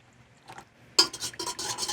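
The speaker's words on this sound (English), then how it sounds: "Give it a stir." A spoon clinks and scrapes against a container while sugar is stirred into tepid water for pizza dough, starting with soft taps and building into a quick run of close, bright metallic stirring strokes.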